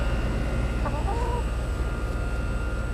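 A hen clucks briefly a few times, faint against a steady humming background of farm noise.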